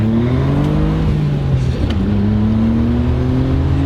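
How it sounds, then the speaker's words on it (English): A Mitsubishi 3000GT VR4 twin-turbo accelerates hard, its engine tone climbing in pitch with a breathy, sucking induction whoosh on top, loud and close from inside the car, with a brief gear-change dip midway. "Funny how the VR4 has this very like suction, weird induction noise."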